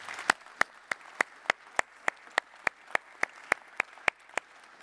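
Audience at the Worldchefs Congress General Assembly clapping in slow unison, roughly sixteen sharp, evenly spaced claps at a steady beat, fairly close and with no talk over them.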